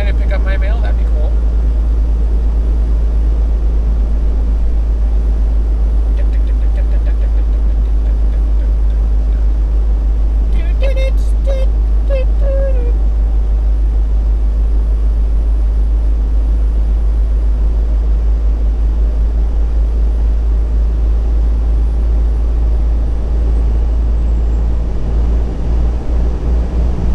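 Semi truck cruising down a highway, a constant loud low engine and road rumble from inside the cab that continues unbroken throughout.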